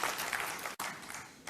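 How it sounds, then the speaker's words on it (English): Seminar audience gives a short burst of applause, a dense patter of clapping with a brief dropout midway, fairly faint and distant. "let's give that one an applause right there."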